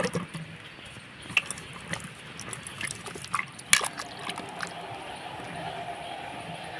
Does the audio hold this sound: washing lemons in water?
yes